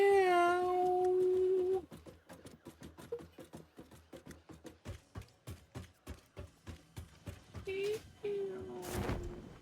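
A cat meows loudly at the start, followed by a long run of rhythmic clicking or tapping steps, then another meow and a sharp noisy burst near the end.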